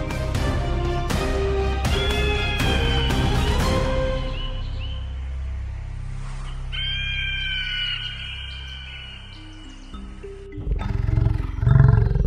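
A lion gives a series of deep, loud roars, rhythmic at first and then trailing into long rumbling grunts, set against a musical background with no talking.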